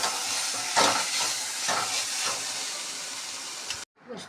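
Grated coconut being stirred into a simmering ivy gourd curry in a pan, with a steady scraping and bubbling hiss plus a few louder stirring strokes, then a brief break near the end.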